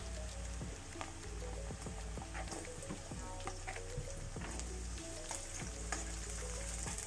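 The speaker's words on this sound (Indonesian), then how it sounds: "Langkah pertama kita tumis terlebih dahulu bawang merah, lalu kemudian bawang putih" Shallots and then garlic sautéing in a pan for a home-style Minang dish, a soft steady sizzle with dense crackling pops and occasional stirring scrapes, close and fairly quiet.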